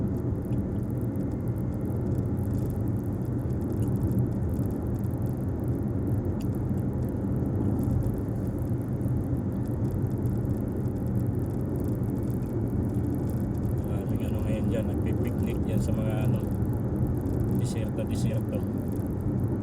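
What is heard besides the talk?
cars driving on a road near Riyadh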